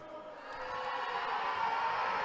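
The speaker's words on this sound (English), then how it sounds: "You hear the ICC crowd getting in his ear." An ICC basketball crowd in a gym jeers and shouts at an opposing free throw shooter, a rising murmur of many voices with scattered calls that swells into a louder, sustained roar.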